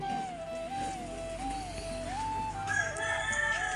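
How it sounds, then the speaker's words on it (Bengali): Chickens and a rooster on a farm, with continuous clucking and crowing in close, layered calls that run without pause and with no talk. "আর আমাদের দেশি চারটা তিনটা মুরগি একটা মোরগ"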